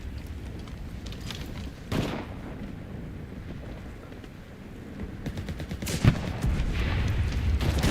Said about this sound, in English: Somebody's already shooting at me.